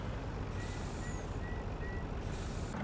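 A John Deere 909 machine in Farming Simulator drives steadily with a broad, constant engine rumble, a hiss of air rising partway through, and faint high whines and beeps over the top, with no speech.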